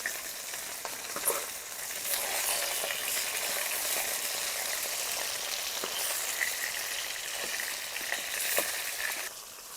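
Boal fish pieces frying in mustard oil after being flipped, a continuous close crackling sizzle with scattered pops and spatters over nearly ten seconds, no talking.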